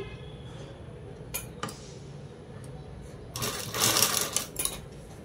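A sewing machine stitches a folded, doubled cloth in a short, fast, dense run of needle strokes after a few quiet handling clicks, fairly close and alone.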